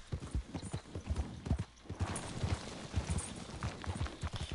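Rapid, loud hoofbeats of a galloping horse in Red Dead Redemption 2 drum in an even rhythm from start to finish, close and clear, with a short break near the two-second mark.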